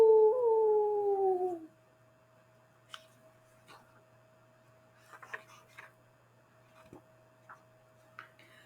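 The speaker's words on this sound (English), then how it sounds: "One day a wolf sat on the rock that was Sylvester and howled because he was hungry." A hungry wolf sits on a rock and howls once, a loud, drawn-out wavering cry that slides downward and fades after a second and a half, followed by near silence with a few faint clicks.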